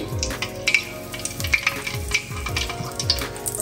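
Oil bubbling and sizzling in a pan while it is tested for frying chicken cordon bleu, with rhythmic stirring scrapes and low thumps repeating every half second, close and fairly loud with no talking.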